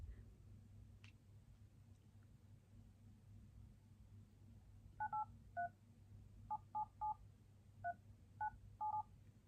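Telephone keypad tones dial a number for an insurance call: about a dozen short, clear beeps in quick uneven groups over a low steady hum, after a few seconds of near silence.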